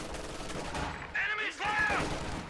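Small arms gunfire in a WWII strategy game, a steady distant crackle of rifle and machine-gun fire under battle noise, fairly faint, with a brief whistling sound partway through.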